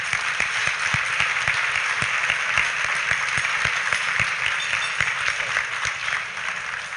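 Sustained audience applause fills a radio program interview with the US ambassador to Mexico, a steady, even roar of many hands clapping with scattered sharper claps throughout.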